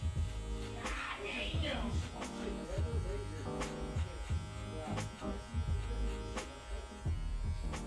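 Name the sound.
Fresh Fade 1090 hair clippers cutting coarse hair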